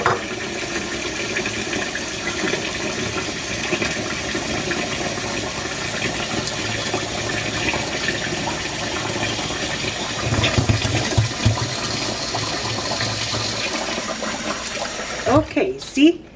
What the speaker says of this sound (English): I don't have to wash it, I just drain it.